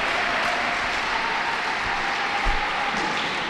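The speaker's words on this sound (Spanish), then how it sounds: "Aplauso del 21" A crowd applauds steadily at a pairs championship final in Aranda de Duero, a dense wash of clapping that holds at an even level from start to finish.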